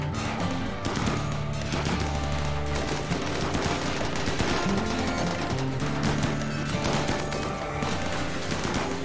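Defensive turrets in Rimworld fire in sustained automatic bursts, a dense continuous chatter of gunfire over a steady game music bed with no pauses.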